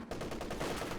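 Machine gun fire in the real-time strategy game Company of Heroes 2, a continuous dense rattle of rapid shots that fills the whole moment at steady, loud volume with no talk.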